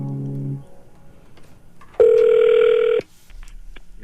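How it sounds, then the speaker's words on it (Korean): A phone call is placed for a morning radio show: a short low tone at the start, then a single loud one-second ringing tone in the middle, with faint background noise around it. "여러분에게 한번 전화를 해볼게요"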